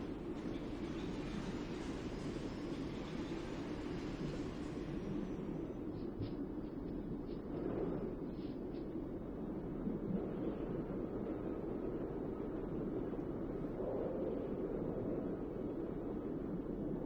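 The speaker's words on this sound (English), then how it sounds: "There's an engine noise to 70." A low, continuous ship engine rumble in Silent Hunter 5, heard underwater, drones steadily with a muffled, submerged quality and a faint rhythmic churn.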